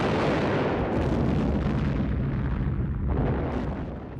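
Rumbling artillery fire and explosions from a World War II documentary soundtrack, loud and continuous, with dense overlapping booms and bursts for several seconds and no voice over them.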